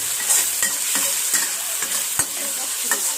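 Food stir-fried in a pan, with a constant bright sizzle and regular scraping strokes of a spatula against the metal about every half second, close and clear with no talking.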